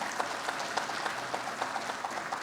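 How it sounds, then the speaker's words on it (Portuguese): Audience applause at a São Paulo urban transport industry ceremony, as a guest is called to the front: steady, moderately quiet clapping from a crowd, continuous and even throughout. "salva de palmas"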